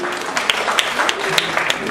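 Audience clapping to welcome guests at a community meet, a steady patter of applause with sharper individual claps standing out, close and moderately loud throughout the short stretch.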